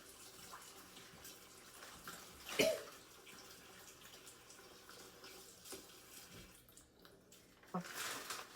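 Water runs and splashes steadily at close range while sardines are washed, with a louder slosh partway through and faint clinks underneath.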